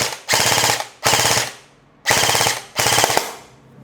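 Airsoft rifle, an ENC 855 John Wick model, firing on full auto in four short rapid bursts of clattering shots, close and loud, with brief pauses between bursts.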